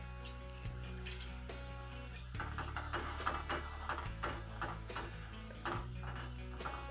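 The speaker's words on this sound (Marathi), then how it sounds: "आता ही मिरची पावडर आपल्याला चांगलं तळून घ्यायचं" Chili powder sizzles as it fries in hot tempering oil for dal fry, a steady low crackle with a few light utensil clicks and no talk.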